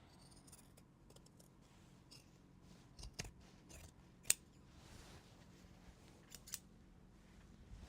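Scissors snip through fabric seams in a handful of sharp, close clicks spread irregularly across the clip, one louder cut standing out, over quiet background rustle with no talk.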